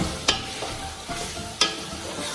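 Potatoes and tomatoes are stirred into a pan of chicken biryani. Steady frying sizzle sits under a few sharp scraping strokes of the spoon against the pan, up close with no talking.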